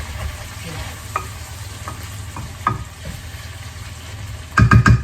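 Garlic butter chicken bites sizzle steadily in a pan over lowered heat, a soft continuous crackle with occasional stirring clinks and a few louder clatters near the end.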